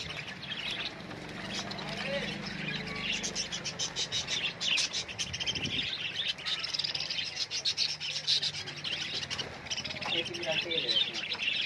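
Many caged birds chirp and tweet continuously in a bird shop, a dense, busy chorus of high calls throughout with a faint murmur of people talking in the background.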